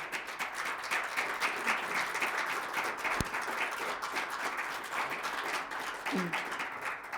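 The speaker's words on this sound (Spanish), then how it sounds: "Gracias por el aplauso" Audience applause for a poet at a poetry reading, sustained crowd clapping filling the room at steady strength, with a sharp knock partway through and a brief voice near the end.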